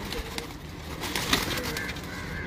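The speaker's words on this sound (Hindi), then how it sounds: "सारे कबूतर ही बहुत अच्छे हैं।" Pigeons in a loft give soft, low coos, faint and fairly close, against a light background murmur.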